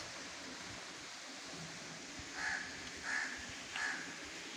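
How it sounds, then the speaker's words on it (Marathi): Three distinct caws from a crow at moderate distance, evenly spaced, over a steady rushing background. "बघा कावळ्यांचा आवाज"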